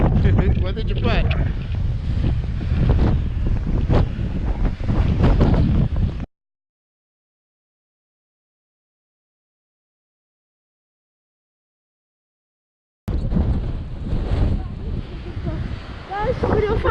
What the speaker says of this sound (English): Look at that wind, look at that wind over there.